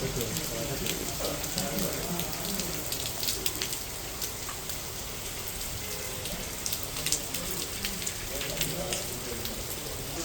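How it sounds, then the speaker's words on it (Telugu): Steady heavy rain pours down across the whole stretch, a dense constant hiss with scattered louder drops spattering close by. "అప్పుడు భారీ వర్షం"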